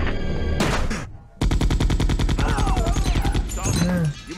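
Rapid automatic gunfire in Resident Evil 2 from 1998. A short burst comes first, then after a brief gap a long, loud, steady stream of shots plays over game music and voices.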